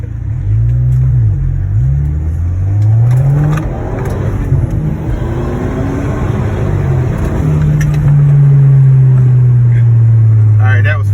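An Audi fitted with a sprint booster accelerating hard while racing a BMW M3, its engine roaring up through the revs in loud sweeping surges with a shift between them, close and overpowering.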